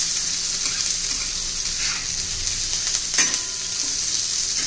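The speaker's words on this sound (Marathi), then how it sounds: "कांदा चांगला भाजून घ्यायचा, आपल्याला चांगला परतून घ्यायचा आहे" Onion frying in a pan for raw-mango chutney, a continuous close hiss of sizzling oil with a brief louder stir about two-thirds of the way through, no voices.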